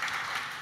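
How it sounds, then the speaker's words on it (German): Audience applause for the gentlemen at the close of a panel discussion on Netz 2025, a brief steady patter of many hands, close and fairly loud, cut short after under a second. "einen Applaus haben die Herren auch verdient, oder?"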